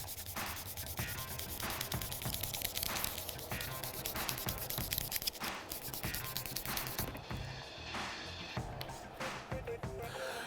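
Steady rubbing and scuffing against a painted foam sci-fi helmet surface, applied with firm pressure in a continuous, close, moderately quiet back-and-forth texture.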